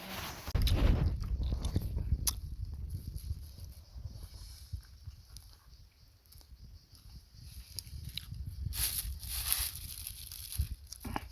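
People eat rice and food outdoors in a forest, with close biting and crunchy chewing over a constant rustling outdoor background.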